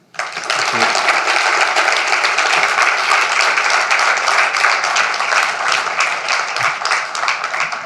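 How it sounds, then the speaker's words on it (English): Sustained audience applause at an awards ceremony, dense steady clapping from a large crowd that starts abruptly and holds loud throughout, with no talk over it. "Another round of applause"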